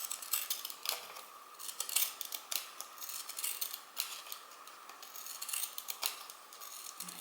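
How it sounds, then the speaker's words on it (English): Craft scissors snipping through paper in quick, irregular crisp cuts, close and quiet, in a steady run of clicks and slices with no talking. "for this one, I have got some of these craft scissors"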